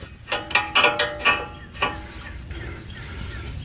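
Ratchet wrench clicking in a few quick bursts while loosening a bolt on a Toyota Tundra, close and fairly loud, then fading to quieter handling noise.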